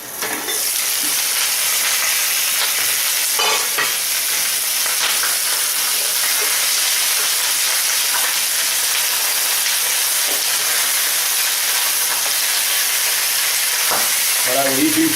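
Farm chicken pieces sizzle steadily as they brown in a pan, with a constant bright frying crackle and a few louder clatters as the pieces are stirred and turned.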